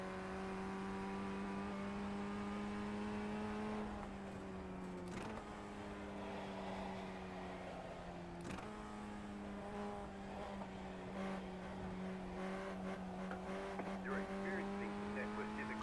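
Race car engine in iRacing holding steady revs with a sharp throttle blip and gear changes, a loud droning tone with clear harmonics, a few abrupt pitch drops, faint tire noise.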